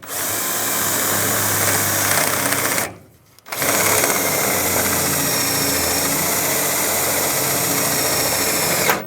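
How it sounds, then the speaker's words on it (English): Power drill with a 1/4 inch bit whines steadily while boring a hole for a mud flap on a 2007-2013 Chevrolet Silverado 1500, stopping briefly and then running again, loud and close with no talking. "Then take a 1/4 inch drill bit. I'm going to drill a hole right here."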